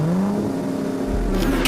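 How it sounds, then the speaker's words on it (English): Bugatti Veyron sports car accelerating hard, a loud rising engine note that builds and swells toward the end of a brief burst, heard alone. "Bugatti Veyrons like his have the biggest engine in the world, which not only allows it to take off faster than a fighter jet"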